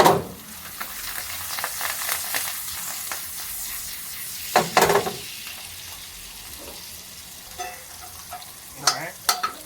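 Parsley, onion and garlic tossed and stirred in a hot frying pan, with a steady close sizzle broken by several louder scraping tosses and clatters.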